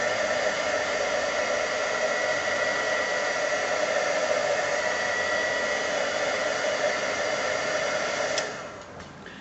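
Heat tool blowing to dry ink on a canvas tile, a steady loud whooshing fan hum running close and continuous before cutting off near the end, no talking.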